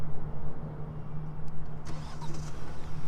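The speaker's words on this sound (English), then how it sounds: "I'm going to go ahead and turn the car on" A 2022 Kia Sorento SX starts by remote, the engine catching and settling into a steady low idle hum nearby, with faint clicks and light mechanical noises over it.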